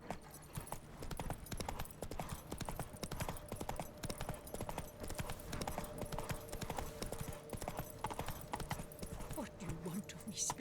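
Roach, the horse from The Witcher 3, trots with a steady, rhythmic clip-clop of hooves throughout, fairly close, over faint game ambience.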